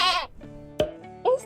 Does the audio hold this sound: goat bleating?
yes